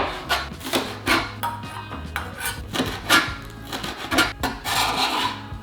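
Green onions are chopped with a knife on a wooden board in a steady, fairly quick run of close, crisp cuts mixed with light scraping, with no voices.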